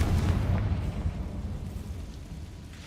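Confringo blasting spell explosion in Hogwarts Legacy: a loud, deep rumbling blast that peaks at once and then slowly fades, with no talk over it.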